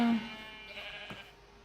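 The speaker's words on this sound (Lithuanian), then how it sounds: "Ir paskutinė avis." A single sheep bleat from Minecraft, sounding brief and close, followed by quiet game ambience with no talking.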